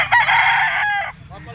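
A rooster being shown for sale at a pet market crows loudly and close, one sustained call lasting about a second, ending with a short cluck.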